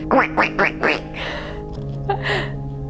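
A person imitates a duck with four loud, nasal quacks in quick succession, followed by a couple of softer, breathier quack-like calls, all close and alone with no other talk.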